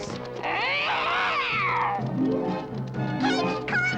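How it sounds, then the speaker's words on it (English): A cartoon cat from an animated Smurfs Halloween episode lets out long, wavering, drawn-out meows and yowls, loud and close, one after another with no talking. "Naughty, naughty kitty."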